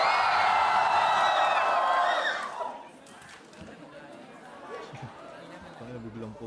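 A live audience at a rap battle event shouts and cheers loudly for about two seconds, then dies down into scattered chatter and murmuring.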